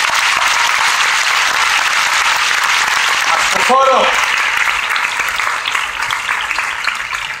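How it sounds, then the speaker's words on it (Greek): Theatre audience at the Delfinario applauding an acrobat, a loud, dense wash of clapping that fills the whole stretch, with a brief spoken phrase near the middle. "Έλα να δω χειροκρότημα."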